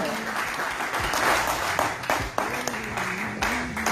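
A church congregation at a seminar claps together in a loud, continuous round of applause, with accompanying music and a few voices mixed underneath.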